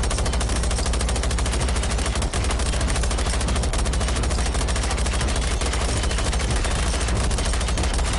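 Sustained rapid-fire automatic gunfire from the Generation Zero shooter game blasts without pause, loud and dense, a continuous stream of shots filling the whole stretch.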